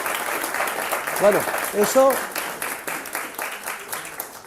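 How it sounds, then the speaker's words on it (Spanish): An audience at a lecture on central banks and money creation claps steadily throughout while someone speaks briefly over the applause. "un aplauso"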